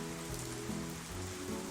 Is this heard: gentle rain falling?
yes